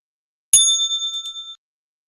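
A single bright bell strike, used as a trading-day opening bell, rings out clearly and rings on for about a second before stopping.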